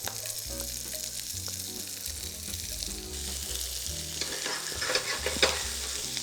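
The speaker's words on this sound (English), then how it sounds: "Next go in our onions. We're gonna cook these up just a little bit." Onions frying in a pan for onion gravy for Salisbury steak, a steady close sizzle with stirring scrapes throughout, no talk, over background music, growing a bit louder near the end.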